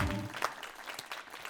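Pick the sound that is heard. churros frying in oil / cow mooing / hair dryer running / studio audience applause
studio audience applause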